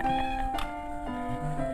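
Cats at a grandmother's village home in Vengurla give a close, clear meow, a drawn-out cry followed by softer trailing sounds.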